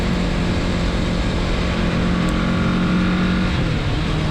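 A 2024 Kawasaki Z650RS motorcycle riding on an open road, its engine droning steadily under loud, constant wind rush, close and continuous.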